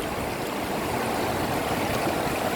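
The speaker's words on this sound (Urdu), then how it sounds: "یہ پانی ہے" Water flows steadily in a continuous broadband rush, close and even throughout, with no voices.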